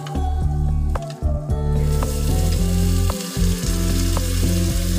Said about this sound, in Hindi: अब इसमें हम अदरक लहसुन डालेंगे।